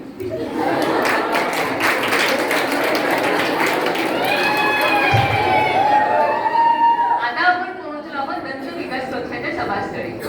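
A political rally crowd raises a dense, loud roar of cheering and chanting, with shouted voices and whistles rising and falling together over about ten seconds.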